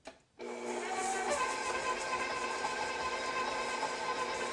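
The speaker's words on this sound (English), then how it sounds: "in a standing mixer using the paddle attachment" A stand mixer with its paddle attachment creams butter and sugar at medium speed for a Caribbean black cake, a steady, continuous motor whir starting after a brief pause and holding level throughout.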